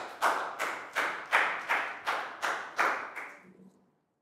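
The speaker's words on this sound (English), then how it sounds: "big round of applause for Nadia" About nine sharp hand claps in a steady rhythm from a small group in a classroom, close and fairly quiet, the last ones fading out.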